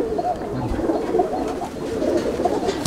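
Chennai breed pigeons in a loft in Andul, Howrah, giving low, continuous cooing close by, a dense murmur of several birds with a steady background hum.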